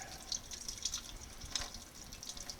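Cool water runs steadily from a tap while boiled beets are skinned by hand for pickling, a soft, continuous splashing flow with light spatters, fairly faint and with no one talking.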